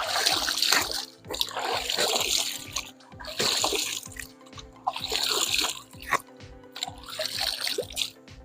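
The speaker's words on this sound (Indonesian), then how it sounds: "Ini sungai namanya Sungai Kindasan" Floodwater from the flash-flooded Kindasan river at Keningau rushes and splashes steadily, with the surging flow swelling and easing in repeated waves throughout.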